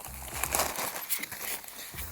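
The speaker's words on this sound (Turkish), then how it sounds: "gelin birlikte indirelim poşeti" Close, crinkly rustling of a plastic bag holding a RAM Mounts phone holder being handled and pulled open, in short irregular bursts.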